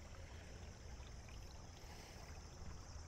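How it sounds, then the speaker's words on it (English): A peaceful creek runs behind President Andrew Johnson's home, giving a steady, soft broadband wash of flowing water that continues unbroken and fairly faint. "Nice peaceful creek."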